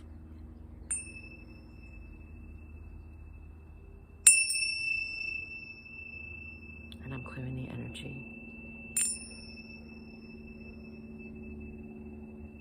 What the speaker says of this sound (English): These are the Tibetan bells.